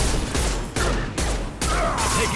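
Sharp bursts of enemy gunfire in Mass Effect 2, three or four loud, close volleys in quick succession with brief gaps between them.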